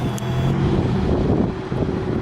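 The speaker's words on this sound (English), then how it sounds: "Windy" Wind gusts outdoors in a chilly spot, a steady loud roar buffeting the microphone without a break, with low rumbling throughout.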